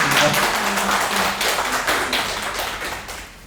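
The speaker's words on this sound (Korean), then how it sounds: "박수 한번 부탁드리겠습니다." Brief clapping from the audience at a book talk and food-themed talk show, a scattered patter of hands that starts fairly loud and fades gradually over a few seconds, with no speech over it.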